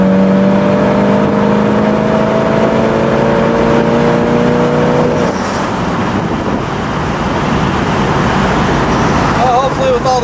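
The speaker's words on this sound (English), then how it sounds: "Well, hopefully with all the wind noise you heard the three gears." A 1967 Chevrolet Camaro convertible accelerates through three gears, its engine tone climbing in rising pitch before a shift, then buried under heavy wind rush for the rest of the run, with another brief rise near the end.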